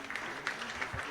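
Brief, quiet patter of applause from a small audience at a gathering, faint and short, with a low murmur or tone underneath.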